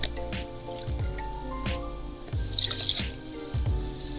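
Pierre Ferrand cognac pours into a mixing glass in close, soft trickling and dripping bursts over steady background music.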